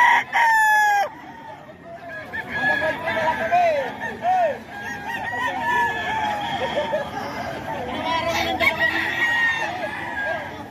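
Roosters and hens in a Philippine backyard, with a loud nearby crow at the start and repeated clucks and short calls throughout, while someone talks over them.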